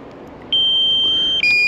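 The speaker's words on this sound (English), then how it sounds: "We are going to get the battery beep in a second." A drone sounds its low battery warning as a thin, high tone that starts abruptly and holds steady, then briefly breaks before resuming over faint background noise.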